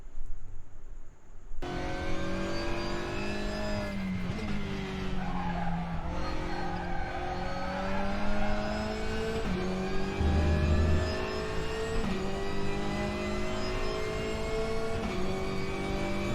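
A WTCR touring race car laps the Nürburgring GP circuit in the RaceRoom racing game, its engine droning loud and steady, rising and falling through gear changes, with tire squeal under braking and cornering and no talk.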